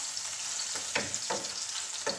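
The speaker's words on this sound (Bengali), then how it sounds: "এদিকে আমি কিন্তু আপনাদের সাথে কথা বলতে বলতে ডালে বাগারটাও দিয়ে দিচ্ছি।" Spices tempering in hot oil for dal, a steady close sizzle punctuated by a few sharper stirring bursts, with no one talking.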